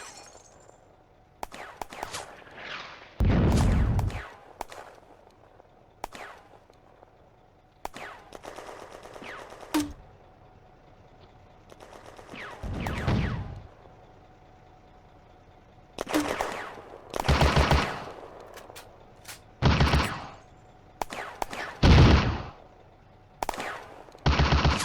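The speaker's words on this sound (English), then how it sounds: "Lefranc's machine gun is suppressing the Germans in the block opposite." Machine gun fire in a WWII-themed game set at Bléneau railway station in June 1940, loud sustained bursts of automatic fire separated by quieter gaps with faint distant shots and crackles.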